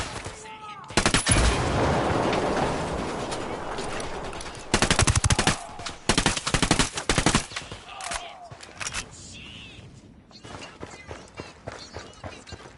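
Video game gunfire in Ghost Recon: dense bursts of automatic rifle fire, with a long sustained volley early, then clustered shots in short rapid rhythms and brief pauses, loud and close.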